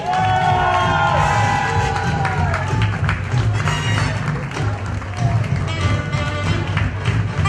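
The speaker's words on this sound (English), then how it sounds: "huge round of applause" Audience applause and cheering at a celebrity fashion show, a busy crowd of claps and shouts over a steady musical backdrop, close and fairly loud throughout.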